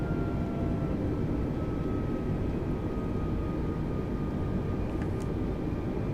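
An airliner in Flight Simulator 2020 rolls for takeoff with a dense, constant jet-engine roar and rumble, loud and steady, with no voices heard.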